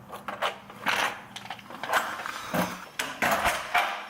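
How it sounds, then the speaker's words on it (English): A washing machine runs in a home laundry, giving off uneven mechanical clunks, rattles and whirring at moderate volume. "So that's the washer going."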